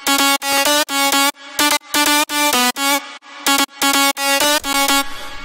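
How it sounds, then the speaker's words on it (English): A bright, buzzy synth lead plays a looped staccato phrase in a hard-style lead pattern, loud and rhythmic, with short chopped notes and brief gaps between them. "Second synth sounds like this."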